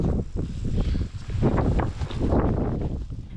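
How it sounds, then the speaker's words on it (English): Strong wind buffets the microphone high in the Lapland mountains of Finland during a bikepacking ride, a loud, continuous gusty roar that rises and falls with no voices. "Pretty windy."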